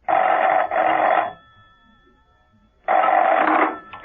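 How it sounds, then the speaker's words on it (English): A telephone rings in two loud bursts of electronic trilling, separated by a pause of near silence, in an apartment setting. "Steed rang Mrs. Peel at her apartment."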